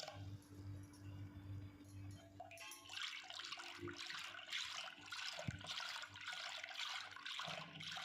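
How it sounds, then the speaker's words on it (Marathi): Water is poured into a mixture of curd and ground peanuts in a home kitchen, a faint splashing pour that starts a few seconds in and continues steadily to the end. "आपल्याला जेवढं सार बनवायचं तेवढं पाणी आपण ह्याच्यामध्ये आता टाकून घ्यायचं"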